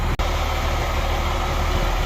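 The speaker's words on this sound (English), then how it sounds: "The truck is running." A farm truck's engine runs steadily nearby, a continuous broad rumble with one brief dropout near the start and no speech.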